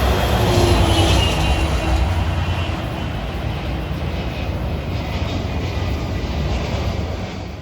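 A steady, broad roar of a Virgin Atlantic Airbus A350 airliner from London Heathrow passing over Rosedale, New York, loud and sustained throughout with no pauses.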